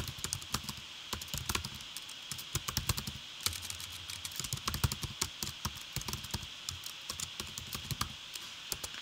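A computer keyboard being typed on in quick, irregular bursts of close, crisp key clicks with short pauses between, while a policy name is entered in an AWS account setup, with no talking.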